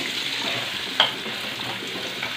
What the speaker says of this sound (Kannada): ಎಣ್ಣೆ ಕಾಯ್ತು ನೋಡಿ, ಮೊಟ್ಟೆನೂ ಇನ್ನೇನು ಆಲ್ಮೋಸ್ಟ್ ಬೇಯ್ತು